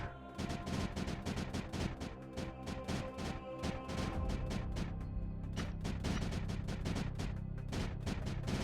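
Rapid cannon fire in the video game Creeper World 4, a dense run of sharp, repeated blasts and crashes tumbling over one another, loud and close with no pause.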